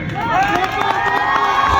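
A crowd at an AIMIM political rally cheers and shouts to welcome Waris Pathan, loud overlapping voices and whistles close by, with speech mixed in.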